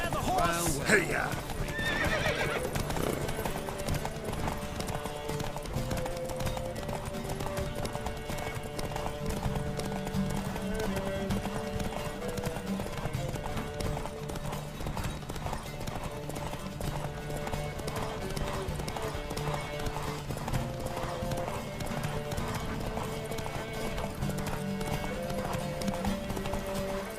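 Horses gallop hard in a race in The Witcher 3 video game, with steady rapid hoofbeats and whinnies over a continuous music score, and a voice shouting at the very start.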